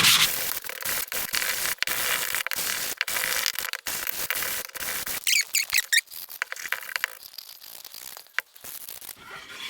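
A wooden cheese board is hand sanded with 120 grit sandpaper, giving steady rasping strokes that rub and squeak close by, with brief pauses between passes.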